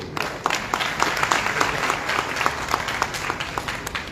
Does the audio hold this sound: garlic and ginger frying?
no